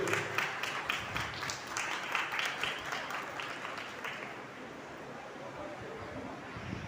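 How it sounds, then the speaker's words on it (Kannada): Audience applause at a Yugadi festival gathering, rhythmic clapping that starts loud and gradually fades out, leaving only faint background noise. "ಜೋರಾದ ಚಪ್ಪಾಳೆ ಬರಲಿ"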